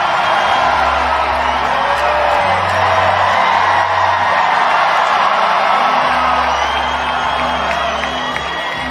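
A big crowd at a concert cheers and whoops loudly and without a break, with yells rising out of the steady roar and a low hum running underneath.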